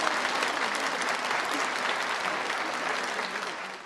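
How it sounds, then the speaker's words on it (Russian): A theatre hall full of spectators breaks into applause as the actress Faina Ranevskaya steps onto the stage, a thick, sustained roar of clapping heard from within the crowd, easing slightly toward the end. "зал начинал аплодировать"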